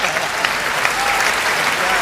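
A crowd at a Hindi kavi sammelan poetry recital bursts into dense, sustained applause, loud and close, a steady roar of clapping with a voice faintly audible beneath.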